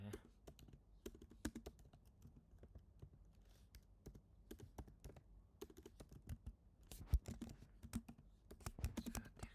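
Soft computer keyboard typing, irregular clusters of light key taps at a moderate distance, fairly faint and quiet throughout.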